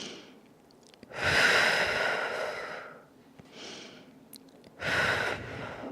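Deep breathing during a yoga stretch, two long audible breaths, close and fairly loud, each swelling and fading with a quiet pause between them.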